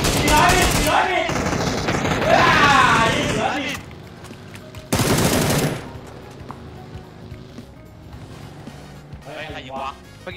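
PUBG gunfire comes as loud rapid bursts, with a heavy volley at the start and another dense burst midway. Thai-speaking players shout and chatter over the shooting.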